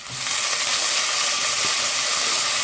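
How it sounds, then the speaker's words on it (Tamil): Crushed garlic and green chili fry in hot oil with a loud, steady, close sizzling hiss that starts suddenly and holds without a break. "எண்ணெயிலே போட்டுருங்க பொரியட்டும்"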